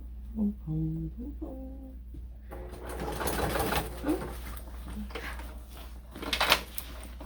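Sewing machine stitching through a stiff, thick bag, a close rapid mechanical chatter that starts after a few faint tonal sounds and carries on with irregular bursts and clunks.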